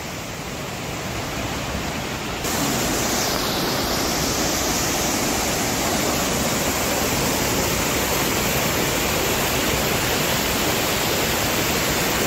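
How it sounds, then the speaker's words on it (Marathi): A waterfall hidden away in a garden-like natural spot roars with steady, dense broadband rushing, growing louder and fuller after the first couple of seconds and then holding constant with no voices. "धबधबा तर खूपच छान असा"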